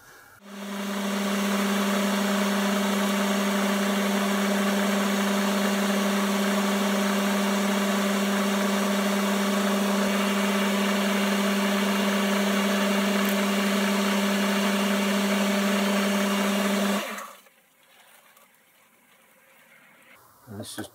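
A lathe trues the outside of a hand wheel with a loud, steady motor hum and whine that runs for about seventeen seconds, then spins down into quiet with light clinks.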